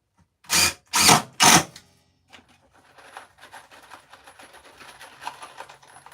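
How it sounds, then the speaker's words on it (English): A power drill drives screws into a wooden table under construction, three loud separate bursts close by, followed by quieter clattering and handling noises. "keep pressing forward and shooting those screws"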